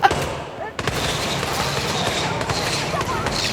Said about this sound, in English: It just opened fire at me.